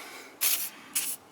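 Two short hissing bursts of Seafoam cleaner sprayed from a can onto the carbon-fouled intake of a VW Touareg TDI, close and fairly loud against a quiet background, each burst lasting about a quarter second.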